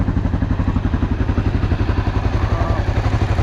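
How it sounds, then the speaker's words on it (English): Honda XR650L motorcycle engine idles steadily up close, a fast, even thumping pulse with a light mechanical clatter on top, continuous and fairly loud. "That motor sounds whisper quiet."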